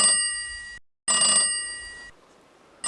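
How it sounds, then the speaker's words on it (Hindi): An incoming call rings out on a mobile phone, two loud electronic trill bursts close by separated by a short gap, with the start of a third at the end and no talk. "कोका से मेरी साली का फोन आ रहा है"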